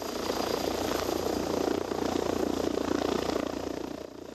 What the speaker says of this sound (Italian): anche l'elicottero di Treviso Emergenza